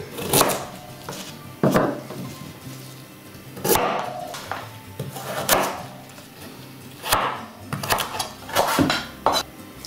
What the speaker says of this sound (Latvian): Sīpolu sagriezt, ķeros ar burkānu.